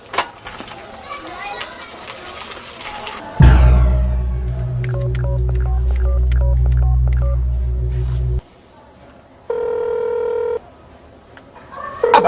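Telephone in a Haitian home drama giving a series of short electronic tones and dial beeps, loud and close over a deep hum, with people and children talking before and around it.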